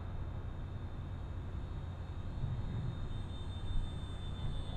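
An E-Flite P51D Mustang 1.2 m RC model plane flying on a 3S battery gives a steady, fairly distant motor and propeller drone with a faint high whine over constant wind-like outdoor noise.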